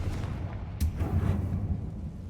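A Confringo fire spell cast in Hogwarts Legacy bursts as a sharp fiery blast followed by a low rumbling boom, a single explosive hit over steady game background noise.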